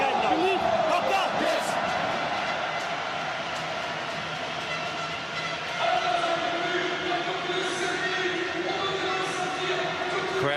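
A large stadium crowd at the Paris7s rugby sevens tournament makes a continuous broad roar and murmur, with a commentator talking over it.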